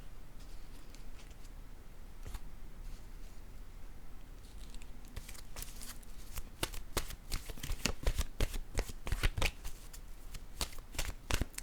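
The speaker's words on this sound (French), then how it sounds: "Je vais déposer une carte ici de ce côté." Playing cards are handled and laid down in a card reading, first with quiet rustling, then a quickening series of sharp slaps and flicks close up, with no voice.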